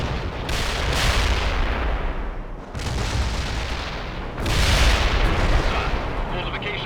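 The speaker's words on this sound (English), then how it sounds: "The barrage was right on target." Artillery barrage in the real-time strategy game World in Conflict, several heavy booming impacts roughly every two seconds, each a loud burst followed by a rumbling tail over continuous battle noise.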